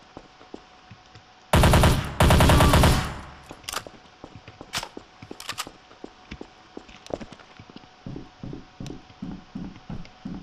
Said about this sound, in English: I was just shooting NPCs